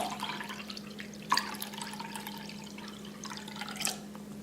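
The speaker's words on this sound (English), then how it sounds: "I'm just going to top it up a little bit with some water." Tap water is poured to top up a biltong curing marinade left in a dish after the meat was removed, with a soft steady trickle, brief splashes and drips, and a low hum behind.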